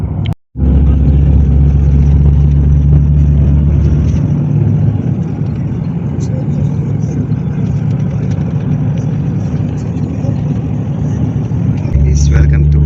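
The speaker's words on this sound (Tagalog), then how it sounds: "Alis na ang bus guys." A bus departing for Thessaloniki in Europe, its engine rumbling steadily and close throughout, with a low drone that fades and returns, while voices talk over it.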